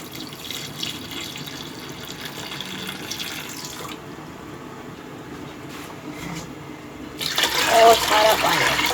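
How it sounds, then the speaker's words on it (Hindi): Water pours into a cooking pot while haleem is being made. A soft running trickle fills the first few seconds, then comes a quieter stretch, and a louder splashing pour closes the clip. "अब मैं इसमें डालूंगी पानी।"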